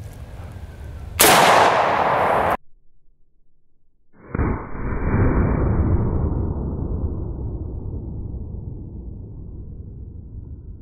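A .44 Magnum lever-action rifle fires one Hornady 200-grain XTP hollow-point round (1,500 feet per second) into a test wall. A sharp, loud crack is followed by silence, then a heavy rumbling boom that slowly decays.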